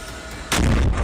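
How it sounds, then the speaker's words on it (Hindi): A rocket explosion in Tel Aviv during the Israel conflict hits as a single sudden, loud blast that follows a low background rumble, then fades into a rough roar. "TV9 भारतवर्ष के कैमरे में तेल अवीव में हुए धमाके और दहशत की तस्वीरें कैप्चर हुई।"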